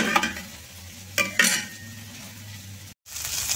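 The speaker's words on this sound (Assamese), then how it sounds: "এতিয়া ধুনীয়াকৈ দাংবডি আলু ভাজি আছোঁ" Sliced potatoes fry in a pan with a close sizzling hiss, broken by a couple of sharp scrapes and clinks of a spatula against the metal, then a brief gap before the sizzle resumes.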